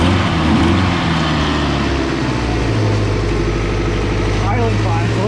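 A supercharged, lifted Honda Civic wagon engine idles steadily up close, its low rumble loud and even throughout with no breaks.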